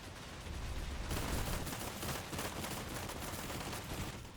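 Dense, continuous bursts of automatic gunfire from a multiplayer shooter video game, loud and sustained for several seconds with no talk.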